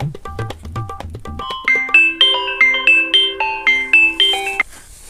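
A phone ringtone plays a bright, repeating electronic melody of quick chiming notes, starting with a few short tones and then looping steadily before cutting off.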